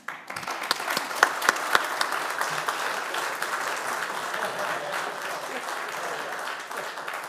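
Sustained audience applause welcoming a speaker at a digital transformation summit, steady and fairly loud for several seconds with dense clapping throughout and no speech.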